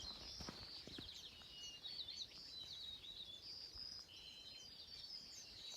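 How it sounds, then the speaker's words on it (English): Several birds sing and trill in a small marsh beside a trail at Ancient Lakes in April, their high, quick chirps and warbled phrases overlapping steadily and fairly faint over a soft outdoor hush. "Happy birds in there, I tell you."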